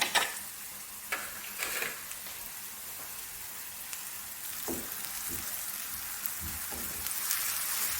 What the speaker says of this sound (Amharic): እንደዚህ ጥብስ እናደርጋታለን ሽንኩርታችንን።